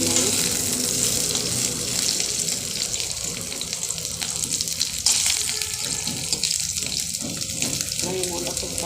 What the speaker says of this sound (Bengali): বেগুন ভাজা গেছে, আলুটা ভেজে নেব।